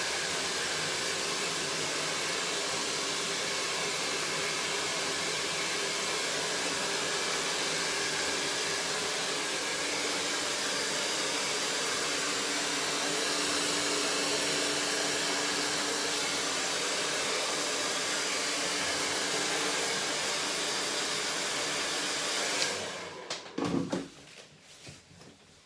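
A hair dryer blows continuously during a children's shoulder-length haircut in a salon, a loud steady roar for most of the clip before clicking off near the end.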